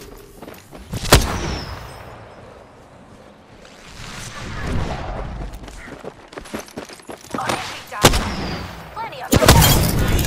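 Gunfire in Apex Legends: several sharp, loud shots scattered through the clip, with a burst near the end, mixed with game effects while a voice talks over it.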